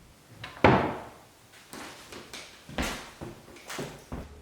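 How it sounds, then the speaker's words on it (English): A wooden fireplace mantle door in a remodeled living room is opened and closed several times. It gives a sharp knock, then a series of softer thuds and light knocks spread across a few seconds, close by. "Here's a good look at how smoothly the mantle door opens and closes."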